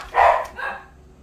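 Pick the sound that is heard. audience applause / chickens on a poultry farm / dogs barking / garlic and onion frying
dogs barking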